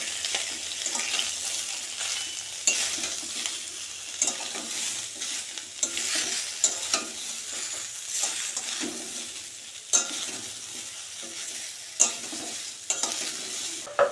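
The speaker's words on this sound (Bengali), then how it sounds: "সেদ্ধ করা চালটা দিয়ে একটু নাড়াচাড়া করে ভাজা ভাজা করে নিয়ে" Boiled rice and chalta (elephant apple) fruit are stirred and fried in a pan. A steady sizzle runs under repeated scraping and stirring strokes, with sharper clanks near the end, heard close and without talk.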